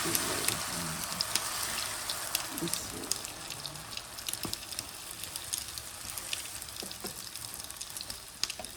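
Steady frying sizzle and crackle from beans heating in a frying pan, continuous and close, with scattered small pops and a faint clatter underneath.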